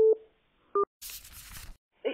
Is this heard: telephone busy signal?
yes